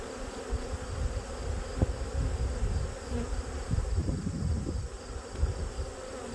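Honeybees hum continuously up close at a crowded hive in autumn while the colony tries to swarm, a dense, steady buzzing drone with individual bees zipping past.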